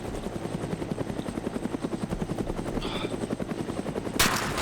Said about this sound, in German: Das ist der Heli, eindeutig.